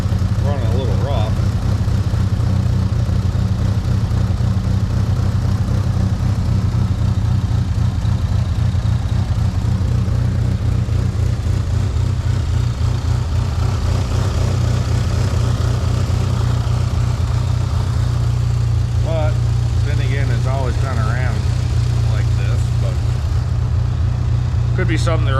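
A 1997 Mitsubishi Eclipse GS-T engine idling roughly after sitting on six-year-old gas, a loud, steady low rumble close by, with a person talking over it.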